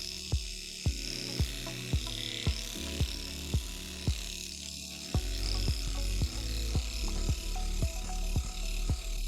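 A small microblading machine hums steadily close by, with a rapid, uneven series of sharp mechanical ticks running through it.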